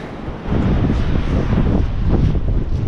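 Wind gusting steadily outdoors on open, wet land being worked by a mini excavator, a broad continuous rush that swells slightly louder after the first half second and holds strong to the end.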